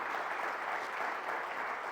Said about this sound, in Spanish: Denle una ofrenda de palmas más allá de lo que puedan.